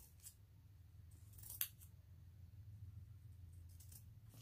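Scissors snip through material while making a ribbon bow for a baby-shower tutu centerpiece, a few quiet, sharp cuts with one crisp snip standing out against a soft low background hum.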